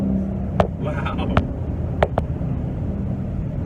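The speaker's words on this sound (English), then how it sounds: "Really love the sound of that exhaust, man." A Whipple-supercharged 2018 Mustang GT's exhaust drones steadily from inside the moving car, a low continuous rumble with a few sharp clicks over it.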